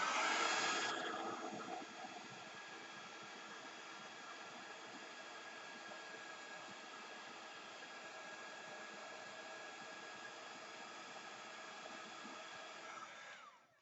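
Heat tool melting embossing powder on a card sentiment, a steady close blowing whir that runs evenly for over ten seconds with a louder start, then cuts off.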